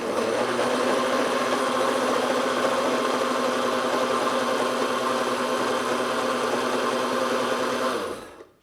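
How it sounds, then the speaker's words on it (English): Ninja Foodi Hot Cold Blender whirring through homemade BBQ sauce, a loud steady motor drone with a grinding hum that runs evenly and then cuts off at the end. "And now let's blend this up a little bit."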